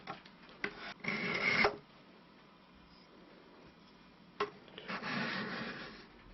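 A Frost Nordic laminated steel whittling knife is sharpened while laid flat, giving two separate scraping strokes, each a short rasping burst with a quiet gap between them and no voices.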